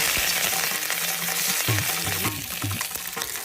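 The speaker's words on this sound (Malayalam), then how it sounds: "ഉണക്കമുളക് നുറുക്കും കറിവേപ്പിലയും ഇട്ടു മൂപ്പിച്ചു വാങ്ങി" Dried red chillies and curry leaves frying in hot ghee in a Kerala cheenachatti for a mango curry tempering, loud close sizzling with stirring scrapes and clatters as the pan is worked.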